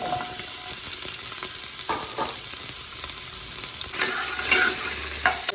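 Onions fry in hot oil and ghee as the base for a mutton head curry, giving a loud, steady sizzle close up with scraping stirs and clinks against the pan throughout.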